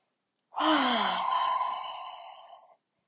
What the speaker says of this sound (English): Take a nice big breath in and out here